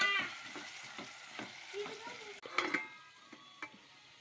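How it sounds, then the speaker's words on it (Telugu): Drumstick and tomato curry stirred in a pan: a spoon scrapes and taps the pan in irregular strokes over a faint sizzle, quiet and close, with a few brief clinks along the way. "ఇందులో తిప్పుతూ ఉండాలి చూడండి"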